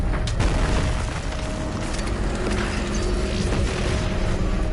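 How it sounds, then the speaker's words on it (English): Grenade launcher blasts in the first-person shooter Doom Eternal on PS4 make dense, loud booming explosions and clattering combat noise that continue without a break, with no voice heard. "Grenade launcher."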